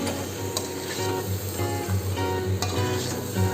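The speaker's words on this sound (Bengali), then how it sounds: "দিয়ে ভালো করে কষিয়ে নেব মাংসটাকে" Chicken pieces coated in ground coriander, cumin and chicken masala sauté in a pan, a close, dense sizzle with rhythmic stirring scrapes throughout.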